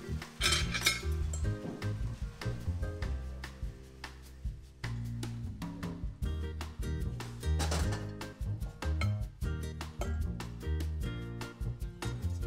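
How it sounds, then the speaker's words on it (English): Metal utensils clatter and scrape repeatedly in a frying pan as pasta with garlic, chilli and fried peppers is tossed and stirred, with steady clinks throughout. "She mixes the pasta with the other ingredients before transferring everything to a serving platter."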